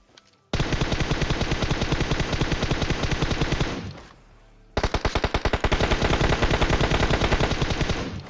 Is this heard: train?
no